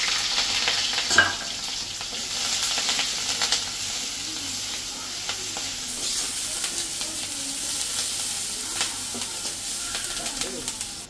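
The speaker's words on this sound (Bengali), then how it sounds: "এখন এই যে কড়াইতে তেল দিয়ে দিচ্ছি, এখন পেঁয়াজ কাঁচামরিচ দিয়ে দিব" Onion and green chillies frying in oil in a wok, a steady close sizzle and hiss with faint stirring clatter running continuously without talk.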